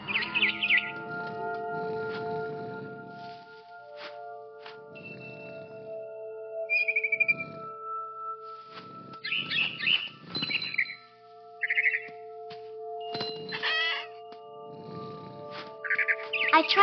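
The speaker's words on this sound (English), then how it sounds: "Then I heard chirping outside my window. It was a barn swallow going back to her nest." A barn swallow chirps near a window, bright short twittering calls in scattered bursts with pauses between, moderately close over a quiet background with faint steady tones.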